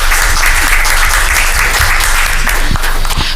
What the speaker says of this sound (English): give a round of applause for these great people behind us